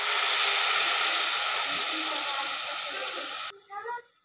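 Water poured into frying hilsa fish masala sets off a loud, roaring sizzle that slowly eases, then stops suddenly, followed by a brief quieter bubbling.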